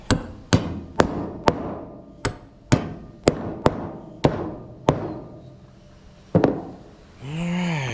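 A hammer taps on a wooden deck of a gooseneck trailer: about ten sharp, evenly spaced knocks up close, a short pause, one more strike, then a brief rising whine at the end.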